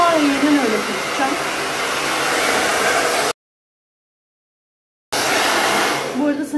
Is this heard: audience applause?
no